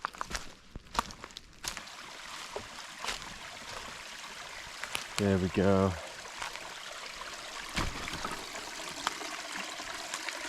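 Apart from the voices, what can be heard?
mountain spring water flowing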